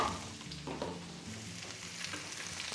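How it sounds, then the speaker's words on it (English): Sliced mushrooms sautéing in melted butter in a skillet, a low, quiet, even sizzle with faint stirring, close and unbroken by speech. "When the butter melts, add the sliced mushrooms"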